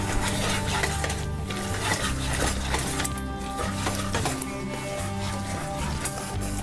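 Clinks and scraping of a spoon stirring cheese into a pot of Kraft mac and cheese, irregular metallic knocks close up over a steady kitchen hum, with no talk.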